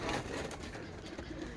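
A Teddy pigeon with green neck markings gives a brief, soft, low coo, close by and quiet against a light background hiss.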